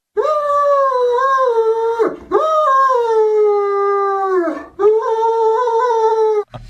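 A Great Dane howls in three long, wavering mournful calls separated by brief pauses, close and loud.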